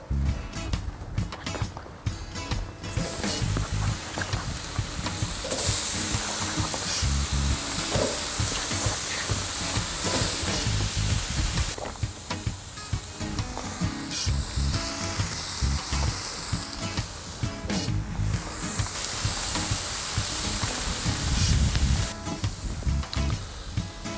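Jalapeno peppers and mushrooms sizzle loudly on a grill alongside venison burgers, a steady crackling hiss with sharp popping bursts that swells and fades throughout.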